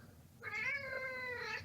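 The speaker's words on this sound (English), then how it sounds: "I'm sorry if you can hear my cat in the background" A pet cat in the background lets out one drawn-out, wavering meow lasting over a second, fairly faint and alone.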